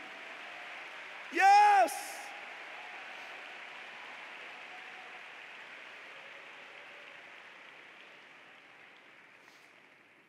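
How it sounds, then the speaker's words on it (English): A church congregation claps in praise, a steady dense wash of hands that slowly fades over several seconds, with one voice calling out briefly near the start. "Can we clap our hands to him and give him praise?"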